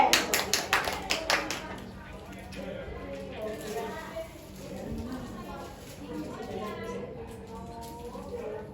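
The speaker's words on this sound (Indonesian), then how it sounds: "Ayo tepuk tangan buat Mbak Yunda." A short burst of rhythmic hand clapping in a fifth-grade classroom at the start, then people talking for the rest.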